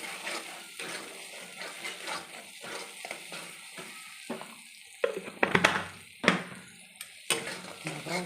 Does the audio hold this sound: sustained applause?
no